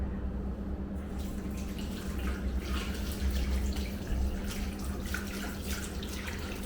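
Hot tap water runs steadily into a barbershop sink while a straight razor is rinsed under it during a traditional wet shave. The splashing hiss is soft and continuous, with a low background hum.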